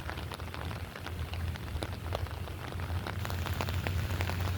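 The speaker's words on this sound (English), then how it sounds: "It's just a kind of a light rain now, but it's been raining all night" Light rain falls outdoors over a low-lying residential area, a steady patter of drops on surfaces continuing throughout, with no voices.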